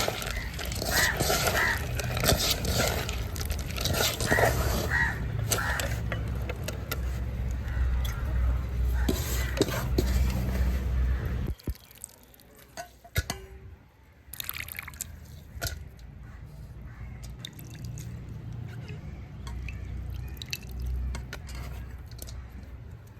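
Aval (flattened rice) is gently washed in water by hand for a village-style halwa. Steady sloshing and dripping splashes go on close by, then turn quieter and sparser partway through.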